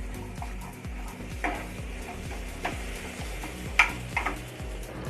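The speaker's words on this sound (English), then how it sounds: "Give it a nice stir." Lollipop chicken being stirred through sizzling masala in a pan, with a steady series of soft scraping strokes and occasional sharper utensil clinks over a low, constant frying hiss.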